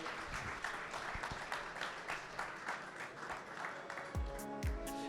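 A crowd applauds steadily throughout, a dense wash of clapping with no voices rising above it, a couple of low thumps near the end.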